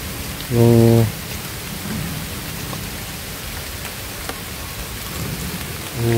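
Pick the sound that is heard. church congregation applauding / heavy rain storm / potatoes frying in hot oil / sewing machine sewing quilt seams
heavy rain storm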